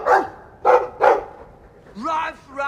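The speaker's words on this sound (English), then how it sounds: "I like the doggy." A dog in the video game Dragon Age II gives three quick barks in a row, then makes a higher, drawn-out whining yelp, all clear and close.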